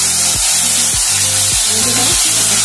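An electric blender grinds a whole tomato into paste, a steady motor whine broken every half second or so by a sharp pulse, four repeating surges close and loud with no voices.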